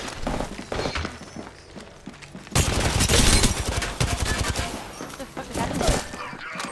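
Light machine gun fire in the Apex Legends shooter game: sparse shots at first, then a dense, loud rapid burst in the middle that tapers off, mixed with other game sounds.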